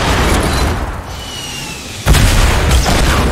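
A rocket launcher explosion in the video game Fortnite: a sudden loud boom hits about two seconds in, breaking through steady game noise and then ringing out in a rumbling tail.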